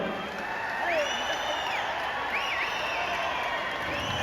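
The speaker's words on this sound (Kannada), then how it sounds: "ಒಂದು ಜೋರಾದ ಚಪ್ಪಾಳೆ." Audience at a farmers' app launch event with actor Shivarajkumar clapping and cheering loudly in a hall, a steady wash of applause with whoops and whistles throughout, close and continuous.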